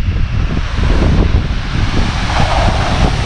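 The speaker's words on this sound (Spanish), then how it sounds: "El agua pega duro." Water of La Candelaria waterfall in Colombia pounding hard near its base, a steady, loud, broadband roar with wind buffeting the microphone and no voices.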